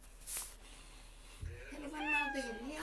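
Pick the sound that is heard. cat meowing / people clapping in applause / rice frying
cat meowing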